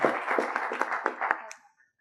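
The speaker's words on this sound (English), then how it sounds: "We started clapping for everyone." Audience clapping after a presentation, a brief patter of applause from a small group, moderately close, fading out to silence within two seconds.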